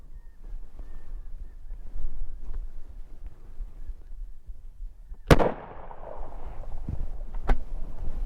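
A single loud rifle shot aimed at a wild dog cracks sharply and rolls off into a long echoing decay, followed by a fainter metallic click as the bolt is worked, against quiet outdoor ambience.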